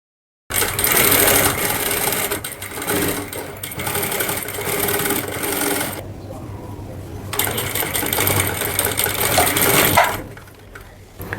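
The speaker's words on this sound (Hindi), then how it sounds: "हमने यहाँ से एक पैर की सिलाई लगाना है" A sewing machine runs in continuous bursts while stitching the collar of a cotton A-line kurti, pausing briefly midway and again near the end, loud and close with no talk.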